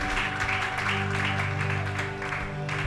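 A church congregation applauds and cheers: dense, steady clapping fills the whole stretch with small surges, over sustained tones in the background.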